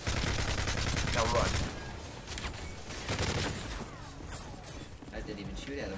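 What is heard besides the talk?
gunfire in Call of Duty: Modern Warfare 3 video game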